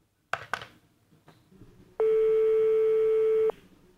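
Telephone call tone over a phone line: a steady, loud electronic tone holds for about one and a half seconds, preceded by faint clicks and line noise.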